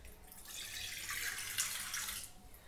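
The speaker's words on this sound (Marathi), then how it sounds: "कुकरमध्ये मी आता टाकते पाणी." Water poured from a tap into a pressure cooker in a home kitchen, a short steady splashing stream of a few seconds, close and alone without speech.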